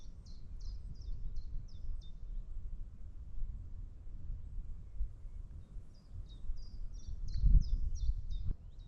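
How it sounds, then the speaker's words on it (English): Short repeated high chirps from birds come in bursts at the start and end, over a soft outdoor rustle and low breezy rumble, on heathland at Arne, Dorset. "I can hear birds all around me"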